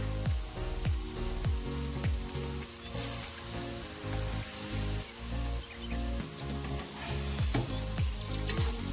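Rice vermicelli fries in a pan with soy sauce while being stirred, a loud close sizzle broken by repeated scraping strokes of the utensil in an uneven rhythm.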